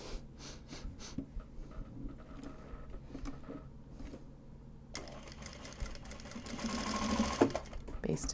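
A home sewing machine bastes a stitch through Japanese fabric on a card holder, a soft rapid whirring that runs quietly beneath ongoing talk and grows busier and louder in the final seconds.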